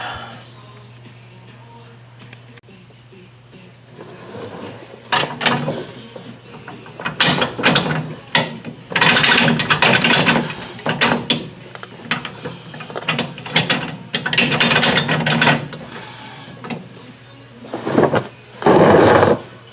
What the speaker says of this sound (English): I'll go ahead and get our nuts back on there and we'll get it all torqued down.